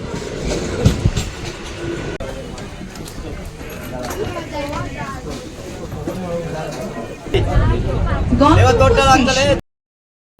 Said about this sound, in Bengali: এই যে আমাদের কাটোয়া হাওড়া গ্যালোপিং লোকাল।